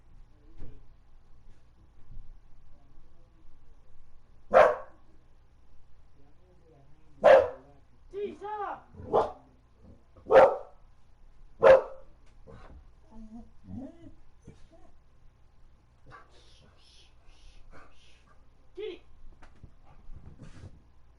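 A dog barks several times in loud, sharp single yelps spread over the stretch, with quieter whines and yips between and people talking softly around it.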